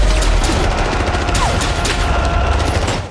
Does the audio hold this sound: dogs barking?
no